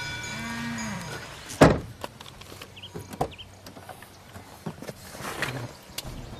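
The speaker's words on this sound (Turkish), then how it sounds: "Karacabey kampçılarını keçiler uyandırıyor." Goats at a campsite in the Karacabey floodplain forest, a drawn-out bleat at the start followed by sparse thuds, shuffling and a couple of fainter calls, fairly close.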